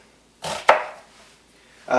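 Onion being chopped by hand on a board for a marinade alongside scotch bonnet peppers: two quick knife strikes close to the listener, the second sharper and louder, then a brief pause before another cut begins.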